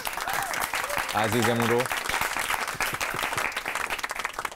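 Studio audience applause on a Persian-language television talk show, a brief burst of clapping rising under a speaking voice and continuing through the clip at moderate level.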